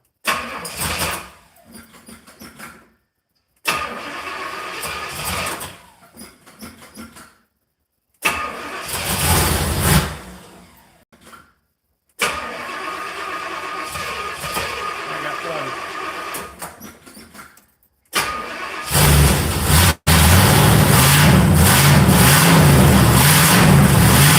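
Several bursts of an engine cranking and sputtering, broken by pauses and talking, until it catches and settles into a loud, steady run.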